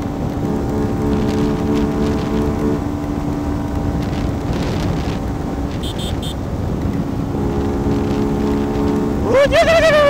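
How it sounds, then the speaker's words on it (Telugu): Heavy rain and wind rush during a long motorbike ride in a downpour, a steady broadband roar that continues throughout with engine drone underneath and a brief rising whine near the end. "వేరే లెవెల్ ఉంది అసలు వర్షం అయితే మాత్రం."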